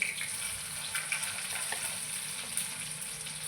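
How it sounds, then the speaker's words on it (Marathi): Onion frying in a spiced tempering with garlic and curry leaves gives a soft, continuous sizzle and hiss. The sound is fairly faint and steady, with no clear stirring strokes. "हा बघा कांदा टाकून घेते"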